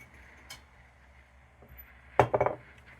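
Quiet room tone with a couple of faint taps, then a sharp glassy clink followed by a quick rattle of metal-on-glass knocks.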